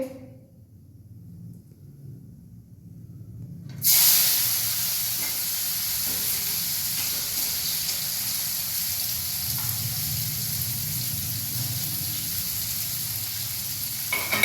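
Onion and tomato are dropped into hot oil for a dosa masala tempering, setting off a sudden loud hiss that settles into a steady, close sizzle after a quiet start.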